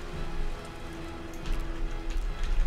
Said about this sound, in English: You just made a shield of rain!